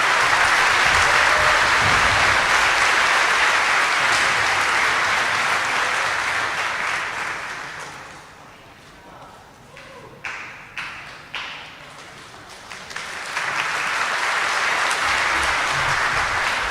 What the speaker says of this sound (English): So one round of applause for our Salutatorian and Valedictorian.